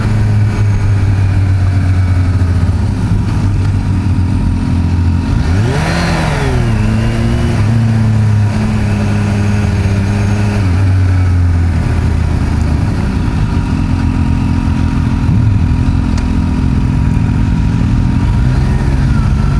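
2021 Kawasaki Ninja H2 SX sport-touring motorcycle at speed, a loud continuous engine drone with wind roar, the pitch rising and falling as the rider revs and shifts mid-ride.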